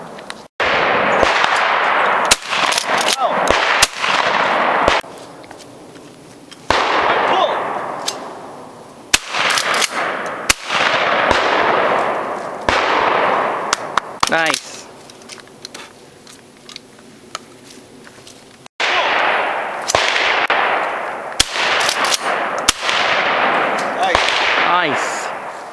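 Loud 12 gauge shotgun blasts at skeet outdoors, a string of sharp, booming shots fired one after another with brief gaps, some closely spaced, with people talking between them.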